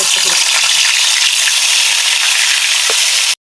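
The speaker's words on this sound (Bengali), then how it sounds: "তেলটা গরম হয়ে গেছে মাছগুলো ছেড়ে দিব" Fish slid into hot oil for a potato and pointed gourd curry sizzle loudly and close, with bright crackling spits throughout before the sound cuts off abruptly.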